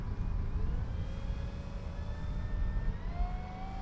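A radio-controlled Spitfire Mk 24 model airplane, 1100 mm span and 1.5 kg, running on a 4S battery, whines as its motor rises in pitch during the takeoff run. The whine sounds moderately distant over a steady rumble of wind and background noise.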